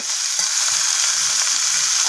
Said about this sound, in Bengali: তো চিচিঙ্গাগুলো একটু নাড়াচাড়া করে ভেজে নিচ্ছি।